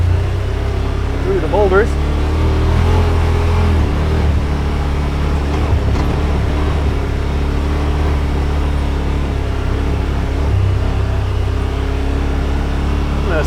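A Yamaha Wolverine RMAX2 1000 Limited Edition side-by-side cruising in high gear on a main trail, its engine a steady low drone throughout while someone talks over it.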